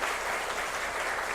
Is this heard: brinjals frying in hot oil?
no